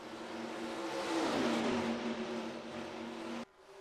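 Race car engines roar past on track in NASCAR Racing 2003, a loud sustained whine that swells and shifts pitch as the pack goes by, then cuts off abruptly.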